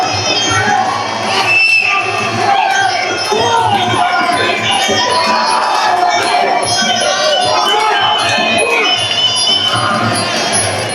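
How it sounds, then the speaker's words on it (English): A packed crowd at a live T7 fight event on the south coast of the United Kingdom roars steadily, a loud, dense wall of shouting and cheering voices that holds throughout without a break. "Crowd still roaring for Pearce."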